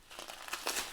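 Plastic bubble wrap packaging crinkles and rustles as it is pulled off a notebook cover, a short burst of soft, close crackling with no talking.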